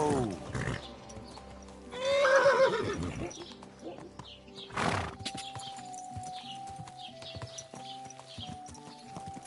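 In the medieval video game Kingdom Come: Deliverance II, a horse gives a loud whinny near the start, then hooves clip-clop in a scattered rhythm close by, with bursts of shouting voices in between.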